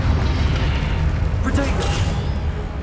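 In Hogwarts Legacy, a Confringo explosion spell is cast: a deep, booming blast swells with low rumble and a brief burst of crackle midway, while a voice is heard.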